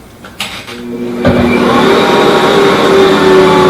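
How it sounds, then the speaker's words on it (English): Stand mixer motor whirring steadily as it beats fresh eggs for a milled wheat bread dough, starting after a few soft clicks and settling into a loud continuous mechanical drone. "And then we turn the mixer on."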